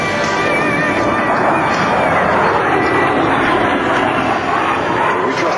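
An A-10 Warthog attack jet's engines roar steadily and loudly during an air show demonstration, a continuous whining rumble that holds for several seconds.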